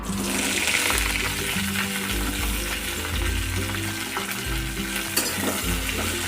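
Chopped green chillies sizzle and crackle loudly in hot oil over medium heat for thecha, a continuous dense frying hiss with occasional stirring scrapes and soft pops.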